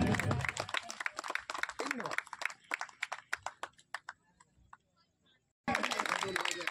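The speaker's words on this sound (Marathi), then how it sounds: "जोरदार टाळ्या होते एकदा." Applause at a Bhim Jayanti dance competition: a crowd claps loudly at first, then the clapping thins to scattered, separate claps before a brief silence and a sudden return of loud sound.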